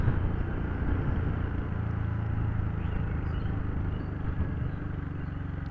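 A TVS Ntorq Race Edition BS6 scooter engine running low on petrol, a steady low rumbling idle with slight unevenness and faint stumbles as it misfires, moderately loud and close, with no talk.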